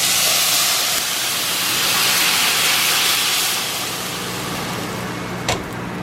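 A loud, steady sizzle fills the air like sauce hitting a hot pan, a broad hiss that eases slightly over several seconds, with one brief clink.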